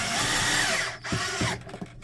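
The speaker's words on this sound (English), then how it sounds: "Now we're ready to put the screws back" A screwdriver drives screws back into the casing of a Canon MG3620 inkjet printer, giving a steady grinding whir that drops out briefly and then resumes with short ratcheting bursts.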